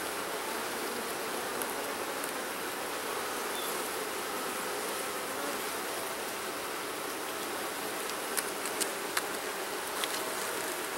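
Honey bees buzz around an opened hive during a brood frame inspection, a dense continuous hum close to the microphone with a few brief sharp ticks near the end and no talking.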